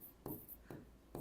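Pen writing on paper during a maths lesson, three quiet scratchy strokes in a loose rhythm, close and faint with no voice.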